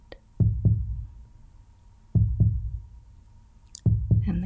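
A slow, steady heartbeat pulses in a calm meditation track, each deep double thump landing about every one and a half seconds, close and soft with a faint sustained tone beneath.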